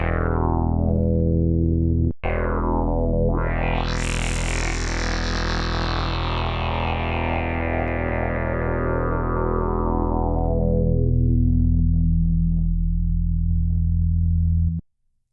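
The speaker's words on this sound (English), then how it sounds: "We could take it into like more of the hack and decimation sort of bit crushy." Prophet 12 synthesizer tone routed through Omnisphere with hack and decimation bit-crusher processing: a steady, loud buzzing drone with sweeping pitch, a brief dropout early on, then a long gritty sustain that cuts off abruptly at the end.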